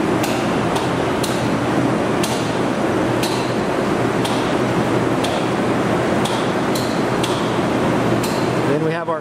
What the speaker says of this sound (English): Then we have our lower vacuum turn on.